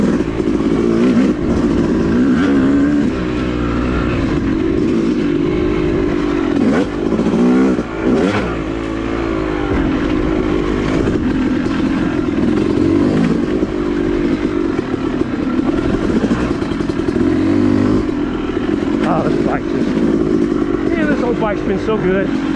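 A Yamaha YZ250 two-stroke dirt bike runs loud and close on an off-road woods trail, its engine droning and revving continuously with rises and dips in pitch, and a rider talks over the noise.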